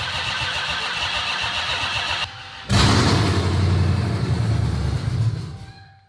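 A car fitted with a supercharger borrowed from a Trackhawk, its engine cranking briefly, then catching and running loud and rough before dying away near the end.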